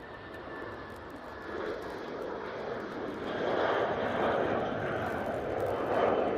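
British Airways jet aircraft at Manchester Airport, a broad engine roar heard from a distance that swells steadily louder over several seconds.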